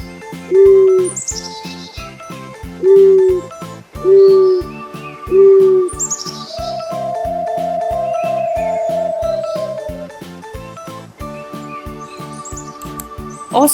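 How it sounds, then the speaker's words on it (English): Owl hoots: four evenly spaced low calls, then a longer sustained hooting tone, with faint higher chirps above and a bouncy background music beat underneath. "owl"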